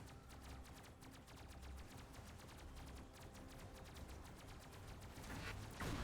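Cannon fire on aircraft in the video game Robocraft, a long rapid stream of sharp, evenly spaced shots rattling steadily throughout.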